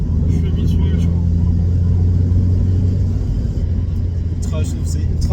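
A Mazda Miata drives through town with a steady, loud engine drone and road rumble from inside the cabin, running continuously throughout.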